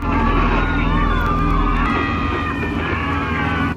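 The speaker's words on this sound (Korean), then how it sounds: "공항에 연락을 취해보는데 들려오는 비명 소리들" Loud, dense screaming and yelling from a crowd in a horror film set at an airport, several voices wailing over a constant rumbling din that runs throughout.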